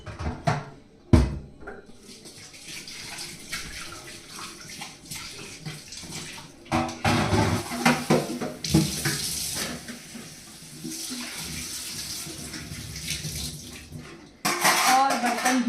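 Dishes being washed in a kitchen sink under a running tap, with a steady broadband rush of water and intermittent clatter of utensils, louder bursts near the end, and a voice talking over parts of it.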